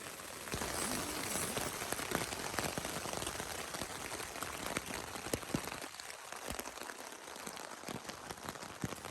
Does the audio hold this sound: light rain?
yes